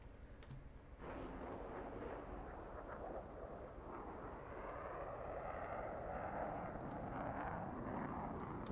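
Roaring jet afterburner from an aircraft at a virtual Roblox aerobatic air show, a loud, steady broadband rumble that swells after the first second and holds with rising intensity, no talking.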